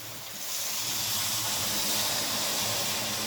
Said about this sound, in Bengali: এবার এর পর্যায়ে আমি এর মধ্যে দিয়ে দিচ্ছি জল